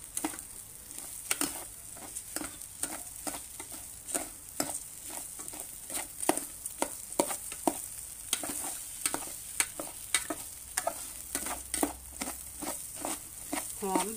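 Stir-frying in a pan while making Thai chicken rice, with a soft sizzle beneath a rapid run of rhythmic spatula scrapes and taps throughout, steady and close.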